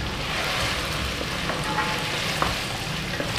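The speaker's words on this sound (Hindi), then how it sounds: "गोश्त ऐड करने के बाद गोश्त को लहसुन अदरक और प्याज के साथ 2 से 3 मिनट के लिए" Mutton frying in a pan with garlic, ginger and onion gives a dense, steady sizzle, close and constant, with a few faint clinks of stirring and no talking.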